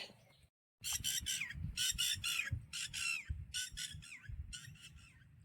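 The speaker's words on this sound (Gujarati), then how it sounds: "લાલેડા આવી ગયા" A flock of jungle babblers calls while being fed at a farm field, giving harsh, rapid squawking bursts in repeated clusters, fairly close and loud, over a low background murmur.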